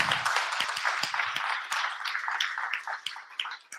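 Clapping erupts for a team member at a Marseille web development demo day, a lively burst of many hands with crisp nearby claps cutting through, gradually thinning into scattered claps as it dies down.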